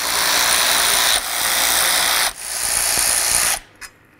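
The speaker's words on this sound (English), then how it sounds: "So now we're gonna remove these bolts right here." A ratchet or power tool whirs steadily while removing the radiator bolts on a Chrysler Town & Country minivan, running loud and close in two long bursts with brief pauses before it stops and a small click follows.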